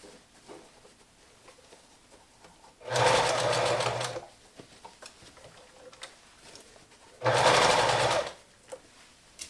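Sewing machine stitching fabric for a ruffled neckroll pillow, two loud steady whirring runs of about a second each, separated by quiet pauses with faint handling clicks.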